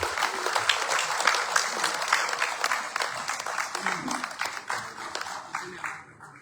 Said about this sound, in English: Please clap for them. And the people that make it happen.